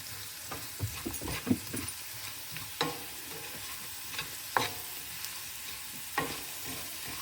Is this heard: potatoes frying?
yes